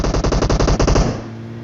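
Automatic gunfire from the battle royale game PUBG Mobile cracks out in a rapid burst of about a dozen loud, close shots in even rhythm, then stops abruptly and leaves a low hum.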